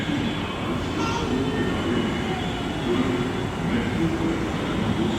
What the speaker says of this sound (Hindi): सामने ट्रेन है